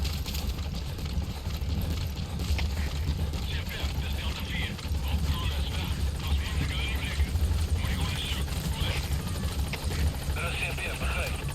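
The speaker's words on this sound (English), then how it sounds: "Support helicopter has arrived." The support helicopter in Metal Gear Solid V: The Phantom Pain arrives at the landing zone with a steady, close rotor drone that holds constant throughout, with other game sounds and voices over it.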